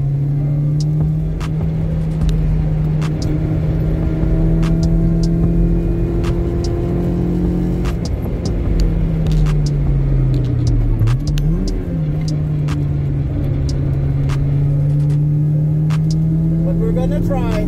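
Car lapping the Algarve racing circuit, heard from inside as a steady engine drone that holds its pitch, dips and recovers around a corner, with faint ticks and clicks over the top.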